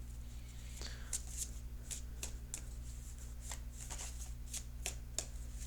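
Tarot cards are handled and picked at close range, with a series of soft, sharp flicks and snaps spaced irregularly over a steady low hum.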